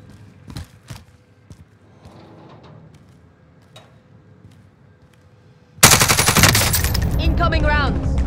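After several seconds of scattered faint shots and distant rumble, heavy incoming machine-gun fire erupts suddenly and loudly in a Call of Duty battle, rapid automatic bursts continuing without pause to the end.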